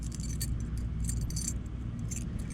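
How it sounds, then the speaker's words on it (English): A set of keys for a 1999 Cadillac DeVille jangles steadily up close, metallic clinks rising and falling for a couple of seconds with no voices. "this is the keys that came with it."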